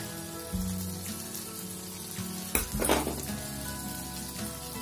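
Pav bread, cut open, toasts with masala and a pinch of salt on a griddle over a low gas flame. A soft, steady sizzle runs throughout, with a brief burst of clatter and louder frying near the middle.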